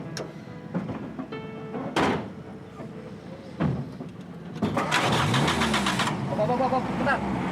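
A car starter cranks in short attempts, separated by a door clunk and voices, before the engine catches and settles into a steady idle. The sound is close and fairly loud, with people speaking over parts of it.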